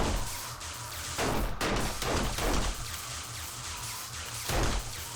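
Several gunshots ring out in 7 Days To Die zombie co-op play, sharp bursts at around 1.2, 1.6, 2.0, 2.5 and 4.6 seconds over a low droning game background.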